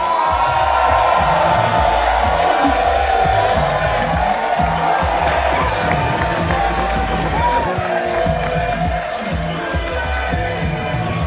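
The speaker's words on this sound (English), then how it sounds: "Please give him a round of applause, Adiola Sheye." Award ceremony crowd for an Entrepreneur of the Year presentation at a university class event, with steady loud cheering, whooping and clapping filling the whole stretch, dense and close throughout.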